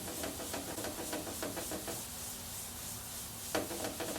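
Cloth rubbing Meguiar's cleaner wax onto the hood of a John Deere X300 lawn tractor, a soft, close swishing with quick back-and-forth strokes, then a steadier hiss and a final scuff.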